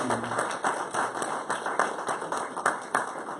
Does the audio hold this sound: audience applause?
yes